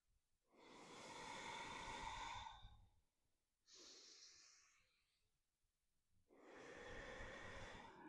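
Slow yoga breathing during a vinyasa flow, three long airy breaths close to the mic, a deep inhale, a shorter exhale, then another deep breath, each separated by near silence.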